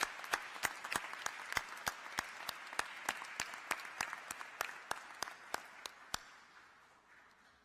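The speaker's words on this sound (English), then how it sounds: "applause and kudos to all of you" Applause at an Organization of American States meeting, a steady, evenly spaced run of claps that thins out and fades toward the end.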